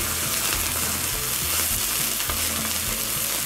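Dry-aged rib eye steak searing in a rocket oven, a loud, steady frying sizzle with crackling spits running continuously close by.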